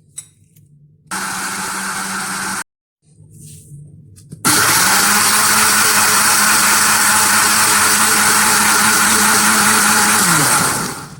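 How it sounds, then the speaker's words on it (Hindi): An electric blender grinds cake batter as flour is added bit by bit for a marble cake, starting with short bursts separated by pauses, then running in one long, loud, steady whir before winding down. "अब इसमें थोड़ा थोड़ा मैदा शामिल करेंगे और ग्राइंड करते जाएंगे।"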